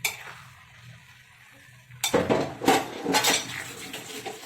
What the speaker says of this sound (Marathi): आपण थोडा कोथिंबीर मिक्स करूया मस्तपैकी